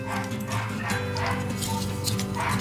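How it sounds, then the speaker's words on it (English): A dog barks and whimpers somewhat distantly in the background during a toy unboxing of an Atlantis Silver Knight figure, a steady, fairly loud indoor mix with no clear talk. "Please ignore the dog barking in the background"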